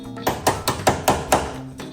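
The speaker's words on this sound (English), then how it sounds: "So what you need, hammer, punch! This is called a punch." A hammer strikes a punch to drive out door hinge pins, giving six sharp metallic taps in quick, even succession, close and clear.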